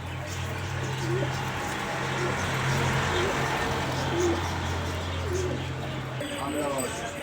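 Pigeons cooing softly in a loft, low repeated coos under a steady hum and background noise, with someone talking over them.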